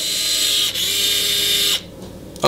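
A cordless automotive impact or ratchet tool whirs loudly in a steady mechanical buzz, changing pitch briefly as it switches between loosening and tightening, then cuts off abruptly.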